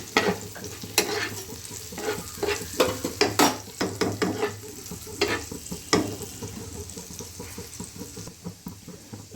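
Garlic and green chillies sauté in a pan, a steady close sizzle broken by frequent sharp stirring scrapes and clicks of a spatula throughout, with no voices.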